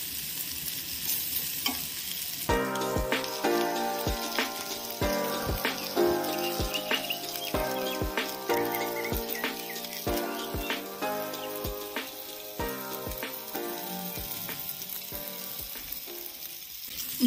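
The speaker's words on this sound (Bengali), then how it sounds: "মিডিয়াম হিটে ভাজছি।" Sliced bitter gourd sizzles steadily in a pan on medium heat while a spatula stirs and taps the pan in a regular rhythm, with no one speaking.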